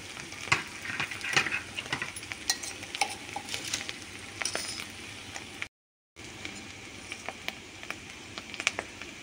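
Cluster beans fry in hot oil, a steady close sizzle broken by irregular spatula scrapes and stirring clicks, with a brief silent gap midway and no talking.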